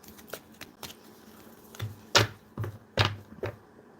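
Tarot cards shuffled by hand during a live reading, giving several short, crisp riffling bursts in close succession, close and moderately loud, with no talk over them.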